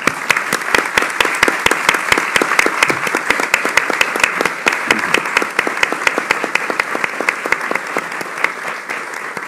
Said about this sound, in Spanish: Aplaudimos al alcalde, ¿no?